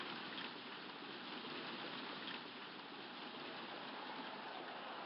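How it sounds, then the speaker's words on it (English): Steady rain hiss during a rain delay at a Chicago World Series game in the Hardball baseball video game, a dense, even wash of falling water continuing alone without pause. "the clouds have moved in quickly here in Chicago. Here comes the rain."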